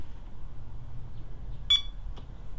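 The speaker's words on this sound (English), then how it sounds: "You'll hear just a beep." A single short electronic beep from the proximity sensor of a BlackVue DR900X-2CH Plus dashcam, clear and close over a quiet low room hum, followed by a faint click.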